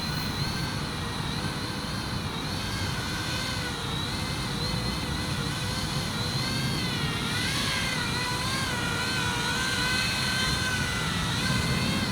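An E-Flite EC-1500 Twin RC model airplane hovers inside a building, its twin electric motors giving a loud, continuous high whine that wavers up and down in pitch as the throttle shifts.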